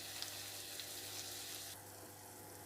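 Round-sliced onions fry in a pan with a soft, steady sizzle that continues quietly and alone, without talk, dipping slightly toward the end.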